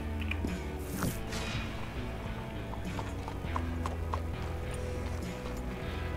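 Norfolk Roadster horse in Red Dead Online, rhythmic hoof clip-clops at a steady gait, moderately close but quiet, with occasional snorts and tack jingles, and no talking.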